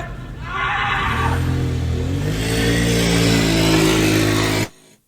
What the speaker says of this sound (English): I'm probably gonna cut that sound bite so it doesn't play the whole engine.